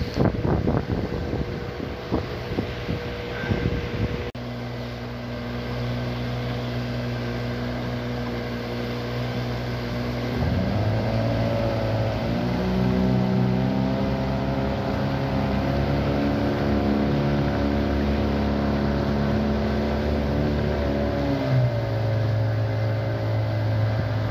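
Three motorboats heading home across the water at the end of an autumn fishing season, outboard engines droning steadily and shifting pitch as they throttle, with wind buffeting the microphone.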